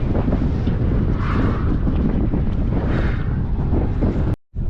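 Strong wind buffets the microphone at a dusty roadside construction zone, producing loud, rumbling gusts throughout, cutting out briefly near the end.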